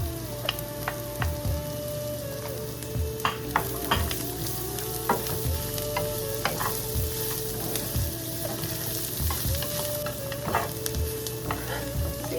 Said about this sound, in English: the meat is starting to get a little bit on the brown. I mean, it's getting fried